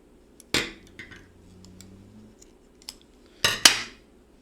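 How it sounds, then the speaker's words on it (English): Scissors snipping knitted yarn close up, two sharp metallic snips about three seconds apart with faint handling clicks and rustle between them. "give this a snip with our scissors"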